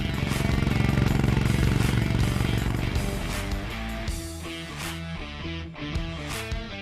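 Honda H'ness CB350 single-cylinder motorcycle through a single-chamber exhaust, a loud, steady, deep thumping engine note with rhythmic throttle blips and revving toward the end, heard alone.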